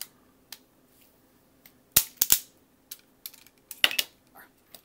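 A Pack-A-Punch key cutter punches cuts into a key, making sharp, loud metallic snaps at close range, a few isolated clicks and a cluster of quick punches in a quiet room.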